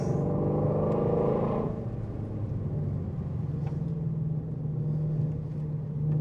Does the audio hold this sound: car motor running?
yes